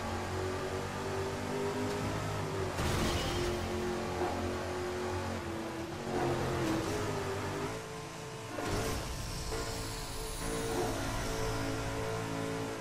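A car engine in the Midnight Club 3 racing game, an SUV, drones steadily throughout, with its pitch rising and falling through repeated revs and gear changes and a couple of brief whooshes.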